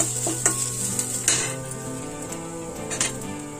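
Dried red chillies, lightly crushed green chillies and curry leaves sautéing in oil, a bright continuous sizzle with spatula taps and scrapes against the pan, close and loud with no talk.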